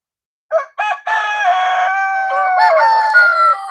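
Loud, close rooster crowing begins with two short clipped notes and runs into a long sustained call, with a second overlapping crow rising near the end.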